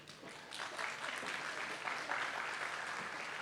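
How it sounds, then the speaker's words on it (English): Short burst of applause from an audience at an AI ethics forum on national AI governance, a steady wash of clapping that holds moderately loud for a few seconds. "which is better if there is a short applause"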